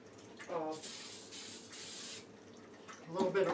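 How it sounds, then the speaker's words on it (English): Several short hissing bursts of a cooking oil spray can lightly coating a cauliflower pizza crust, light and close, with quiet clatter between them. "We do want to spray this very lightly."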